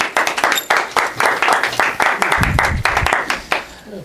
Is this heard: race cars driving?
no